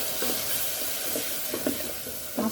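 Tomatoes go into a pan of sizzling onions, giving a steady close frying hiss with a few brief louder crackles and stirring bursts, no voices.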